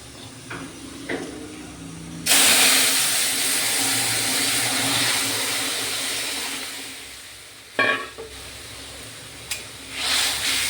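Tamarind liquid poured into a hot black-mustard-seed tempering for a fish curry, setting off a sudden loud, rushing sizzle that holds strongly, gradually softens, then flares again with a few clatters.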